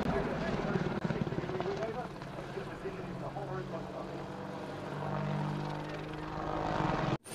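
A toy helicopter's whirring rotor drone runs steadily and loud the whole time, with a voice talking over it.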